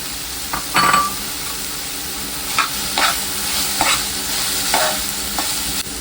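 Soybeans sautéing in a pan, a steady sizzle punctuated by several sharp stirring scrapes spaced through the clip, close and fairly loud with no speech.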